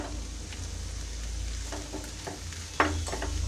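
Pepper squid stir-frying in a pan over a low flame, a steady close sizzle with a few sharper spatula scrapes and stirs breaking through toward the end.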